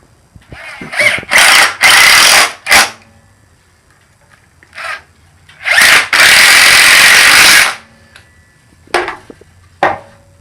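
Power driver sinking pocket-hole screws into a Kreg jig wood joint, several loud close bursts of high whirring, some brief and some held for about two seconds, with quiet gaps between them.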